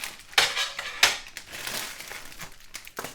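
A chocolate packet being opened with a knife: crisp crinkling and tearing of wrapper with several sharp crackling bursts, close and moderately loud.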